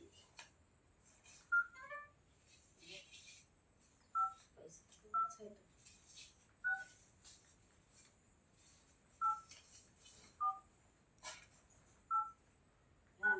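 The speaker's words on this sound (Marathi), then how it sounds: "यात नंबर दाबलाय बरं. डायल केलाय" A phone number is keyed in on a telephone keypad, producing about a dozen short electronic beeps spaced irregularly over several seconds, with faint voices and background sounds in between.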